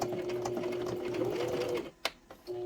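A sewing machine stitches a quarter-inch seam down a fabric purse pal shaker, a steady whirring run that stops briefly near the end with a click before resuming.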